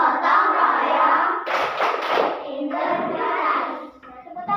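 Primary-school class performing the tepuk PPK rhythmic clapping chant together in a classroom, with children's voices chanting over patterned hand claps that break into short bursts and pauses.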